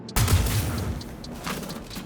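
An Atzkav sniper rifle fires in the Star Citizen video game: one loud, sudden shot, then a long rumbling tail that fades slowly with faint crackles.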